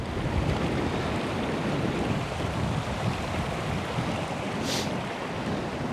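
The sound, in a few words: river flowing at a river crossing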